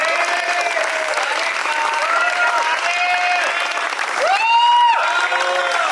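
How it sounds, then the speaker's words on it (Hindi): Loud, steady applause fills an employee award ceremony for the employee of the quarter in electrical and EC, with tonal whistles or cheers rising over the clapping throughout, swelling near the end. "एक बार उनके लिए जोरदार तालियां बजाएं"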